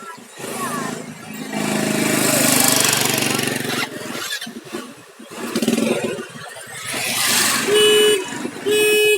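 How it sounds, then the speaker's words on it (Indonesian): A motorcycle security alarm triggered on a bike fitted with Wi-Fi controlled ignition and anti-theft security, a loud close siren with warbling, honking tones that shift pattern and end in repeated steady beeps. "Alarm pun akan menyala."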